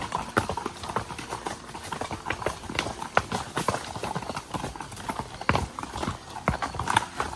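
A horse's hooves clip-clop steadily up steep stone steps on a trail near Fox Pen at Eminence, Missouri, the close uneven strikes mixed with gravel crunch and the rider's movement.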